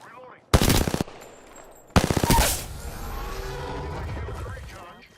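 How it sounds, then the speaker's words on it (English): Automatic gunfire from an enemy squad in the Apex Legends video game: two loud, close bursts of rapid shots about a second and a half apart, followed by lingering game noise and faint voices. "That's another squad shooting at us."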